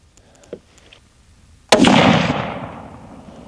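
A single sharp rifle shot from a light Remington rifle fired off a rest during load testing, loud and close, with a long decaying echo after a few faint handling clicks.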